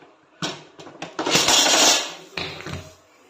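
Moong dal dhokla plate being lifted out of a steamer: several clattering metal knocks and scrapes close up, with a longer ringing clank in the middle, no talk.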